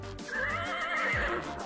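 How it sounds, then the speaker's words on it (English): Horse neighing in the video game Feed The Head, a single clear, loud whinny that rises and wavers over about a second against a low background hum. "That's a horse."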